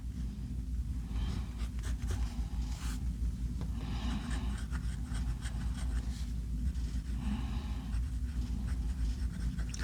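A Nahvalur Fathom fountain pen nib moves over paper in faint, close scratchy strokes that come in short bursts over a steady low hum.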